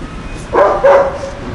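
A sniffer dog at a hotel security checkpoint gives two short, loud barks close by, with a brief gap between them over a faint background hum.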